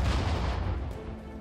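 Artillery fire in the World War II strategy game Sudden Strike 4 rumbles as a deep, sustained boom that slowly fades over a second and a half, fairly faint and heard alone.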